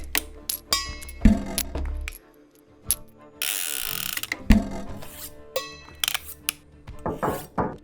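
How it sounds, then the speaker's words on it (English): A mic stand knocked by accident while a cello recording is being set up, giving loose clattering and knocking hits, ratchety scrapes and a noisy burst, each close and sharp with quieter gaps between them. "I bumped against the mic stand while setting up to record some of my cello stuff"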